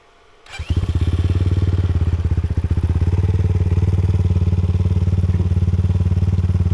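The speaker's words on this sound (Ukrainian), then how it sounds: "Зараз ми спробуємо включити другу швидкість і покататися на другій одразу зі старту" A Geon GNS300 motorcycle starts up with a thump and settles into a loud, steady, rapid engine rumble close by as it pulls away in second gear, with no talking.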